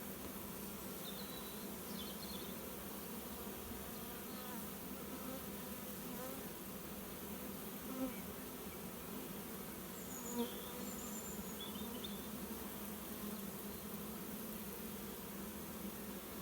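Honeybee swarm fanning at a trapping box, a dense continuous buzzing drone that stays steady and fairly faint throughout, with occasional brief louder bees passing close by.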